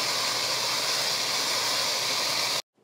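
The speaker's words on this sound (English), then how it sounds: "we're going to let that go until it releases all that pressure" A Simfonio Simpot pressure cooker releases steam pressure through its valve with a loud, continuous, even hiss that holds steady, then stops abruptly near the end.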